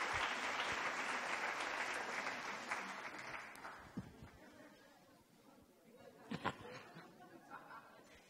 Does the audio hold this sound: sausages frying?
no